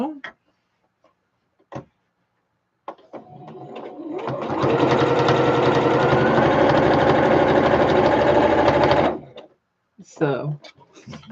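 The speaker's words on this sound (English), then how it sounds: "gonna sew across the top" A sewing machine stitches straight across the top of fabric in a steady, loud, continuous whir lasting about five seconds. A few taps and clunks come before it, and short bits of talk follow.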